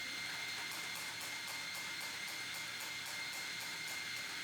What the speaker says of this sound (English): We use the Mazzer Major grinder